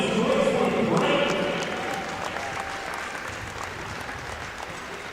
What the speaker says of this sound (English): let's give a big round of applause for our finalists